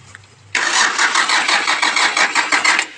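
Car engine cranks briefly and catches right after a new starter is fitted, then runs with a close, loud, slightly pulsing idle for a couple of seconds.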